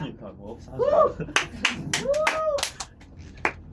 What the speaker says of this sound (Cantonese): 我哋繼續掌聲俾 Lily 姐